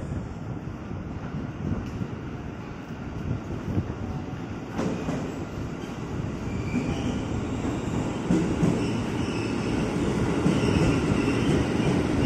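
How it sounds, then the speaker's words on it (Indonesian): A KRL Commuter Line electric train rolls into platform 12 on the elevated tracks at Manggarai station, a steady rumble of wheels and carriages building gradually louder, with faint squeals and clicks over a constant roar. "masuk di jalur 12 KRL Komuter Line dari stasiun Jakarta Kota menuju stasiun Bogor"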